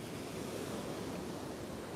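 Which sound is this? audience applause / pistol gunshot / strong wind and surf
strong wind and surf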